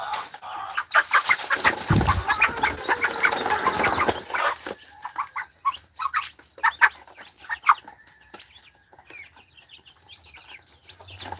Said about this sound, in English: I'll sell you some Rhode Island red chicks.